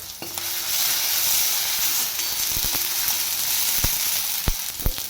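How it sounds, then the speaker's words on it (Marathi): Loud, continuous frying sizzle as asafoetida, kasuri methi and red chili powder hit hot oil in a Marathi dal tempering (phodni), with a few sharp utensil taps toward the end. "अशी फोडणी तळते आणि त्यामध्ये मी टाकलेलं एक हिंग कसुरी मेथी लाल तिखट"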